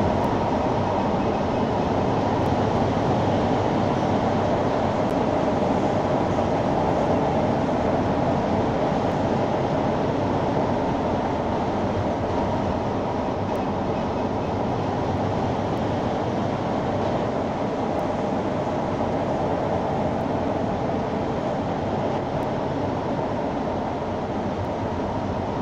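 Minecraft automatic metro train on the Lake Loop Line running in the video game: a continuous, loud rumbling roar of rolling rail noise that holds steady throughout with no voices.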